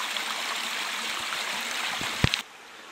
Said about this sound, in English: This is what you call a babbling brook.